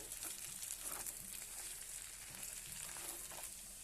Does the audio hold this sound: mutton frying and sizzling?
yes